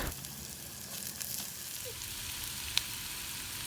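Ginger, garlic and slit green chilies sauté in a pan with a steady, low-level sizzle throughout, with a single faint click near the end and no talking.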